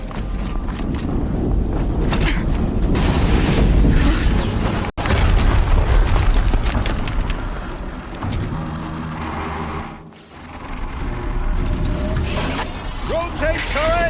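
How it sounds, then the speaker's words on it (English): Explosions and shattering debris from what sounds like a combat scene, loud booming bursts with crackling mechanical clatter, a sharp cut near the middle and a dip in level later. "Explosion."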